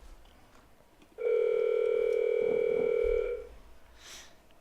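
A telephone call rings out to a guest on a sports show with a single steady electronic ringback tone lasting about two seconds, clear and fairly loud, with quiet room noise before and after.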